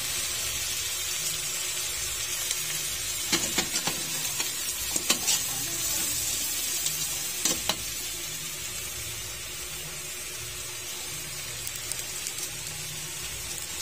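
Shrimp stir-fried in a pan for sotanghon, with a steady loud sizzle and several sharp scraping clacks of a utensil stirring through it.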